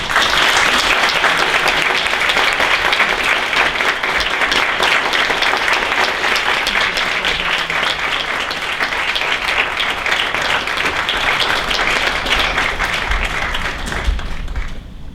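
Dense, steady applause from a large audience fills the hall as speakers join the stage at the National Archives, sustained and loud throughout before easing slightly at the end.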